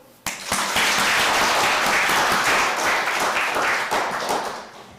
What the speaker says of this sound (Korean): 우리 아버지 하나님께 박수.